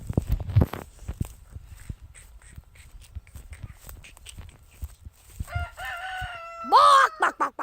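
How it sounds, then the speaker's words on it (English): Chickens scratch and cluck sparsely and faintly, then a rooster close by crows loudly near the end. "Chicken!"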